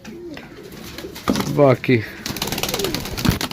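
Pigeons kept by a breeder give a few close, throaty coos in a short burst, with someone talking around and over them.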